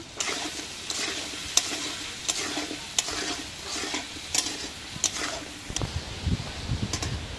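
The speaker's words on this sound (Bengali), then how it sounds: "দিয়ে আমরা আলু কটা ভালোভাবে ভেজে নেব।" Potatoes with a little salt and turmeric fry in a pan, a steady sizzle broken by regular scraping stirs, close and moderately loud, with no talking.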